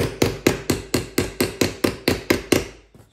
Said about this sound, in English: I need to take the sledgehammer and start working your way around.